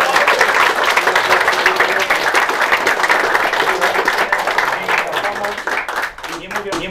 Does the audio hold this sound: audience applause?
yes